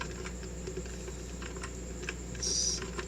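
Fingers type the word tmux on a computer keyboard, producing quick, light, close key clicks in an irregular rhythm over a faint background hum.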